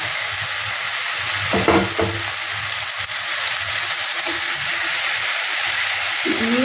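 Fried potato and jackfruit pieces sizzle in a pan of spices, a loud steady hiss with a few scraping stirs near the start, no voices.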